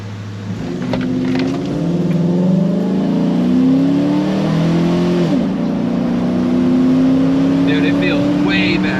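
A Chevy Tahoe's 5.3L V8 runs steadily up close, its engine note rising and settling in a continuous loud drone with slight pitch changes; no clear talk over it.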